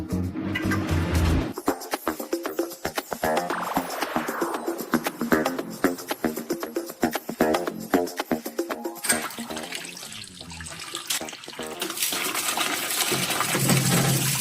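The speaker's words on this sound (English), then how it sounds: "Here comes the water, let's get our feet wet." Water running with sharp clinking, splashing and gurgling bursts, close and irregular in rhythm, then turning into a steadier rush toward the end.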